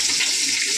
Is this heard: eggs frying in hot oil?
yes